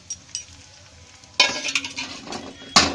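Desiccated coconut powder fries in oil in a pan for gujiya, starting quietly, then a utensil stirs and scrapes against the pan amid bursts of crackling sizzle, with a sharp metallic clatter near the end.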